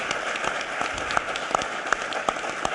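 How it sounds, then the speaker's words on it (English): Scattered hand claps from a small audience, uneven and moderately loud, a brief patter of applause with no one talking. "Let's give these guys a big round of applause."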